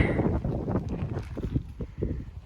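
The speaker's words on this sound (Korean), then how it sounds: "거기다 지금 바람도 불어" Wind buffeting a microphone at Pai Canyon in Thailand, a loud, close, rumbling gust that fills the whole moment with no voices.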